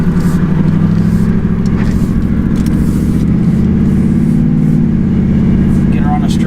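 Car engine with a cylinder misfire and hesitation, heard from inside while driving: a steady loud low engine drone with uneven pulsing, running throughout.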